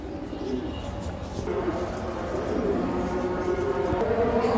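Racer pigeons at a farm loft in Bangladesh coo in a steady low murmur, with birdsong faintly in the background and someone talking over them throughout.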